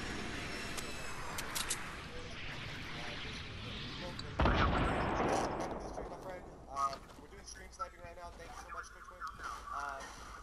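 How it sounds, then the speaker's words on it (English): A rocket launcher fired in the video game Fortnite, a sudden loud boom of the rocket exploding after a stretch of background game noise, then fading, with voices talking throughout. "Okay, I'm gonna shoot a rocket."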